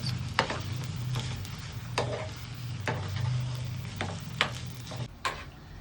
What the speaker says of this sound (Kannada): ಮಸಾಲೆ ಫುಲ್ ಬೆಂದದ್ದೆ ನಾವು ಮ್ಯಾರಿನೇಟ್ ಮಾಡ್ಕೊಂಡಿರೋ ಚಟ್ಲಿ ಹಾಕೊಳ್ಳುವ.